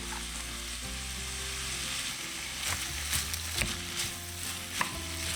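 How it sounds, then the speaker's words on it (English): Onions and bacon fry in oil in a saucepan over medium heat, giving a continuous close sizzle with intermittent scraping and clatter from stirring, louder toward the end; no voices. "We add in the onions and the bacon. And we cook them until the onions are about translucent."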